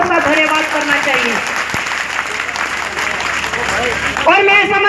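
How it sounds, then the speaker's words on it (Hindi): A crowd gives sustained, loud applause at a village gathering, a dense wash of clapping that runs throughout while a voice speaks over it at the start and again at the end. "सारे मंच की तरफ से जोरदार तालियां बजा करके इन सबका धन्यवाद करना चाहिए।"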